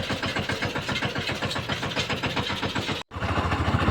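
A tractor engine runs steadily with a trailer hitched on a farm track, its loud close chugging pulse continuous except for a brief cut near the end.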